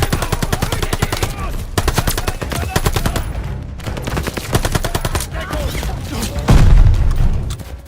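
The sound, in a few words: MP40 submachine gun firing in video game Call of Duty: Vanguard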